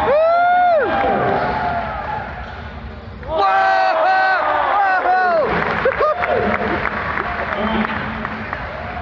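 A large crowd at a basketball slam dunk competition final cheers, whoops and shouts in swelling bursts, with scattered applause and a voice calling out over the roar.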